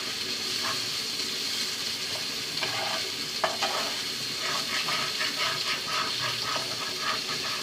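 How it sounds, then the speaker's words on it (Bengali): Bombay duck fish frying in a pan while being stirred, a steady loud sizzle with repeated light scraping strokes of the spatula, close and without speech. "এখন এভাবে 2-1 মিনিট নাড়াচাড়া দিয়ে মাছটা নামিয়ে নেবেন।"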